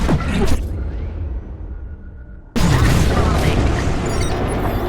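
Bombs go off in Star Wars Squadrons, a loud booming blast bursting in after a brief lull, followed by sustained rumbling explosion noise and mechanical whooshes.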